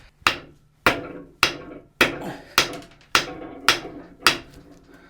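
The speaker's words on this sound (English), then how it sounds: "A hammer to the rescue." Eight sharp metallic hammer blows ring out at an even, steady pace during work on a 300 inline-six engine rebuild, each strike close and loud with a short decaying ring.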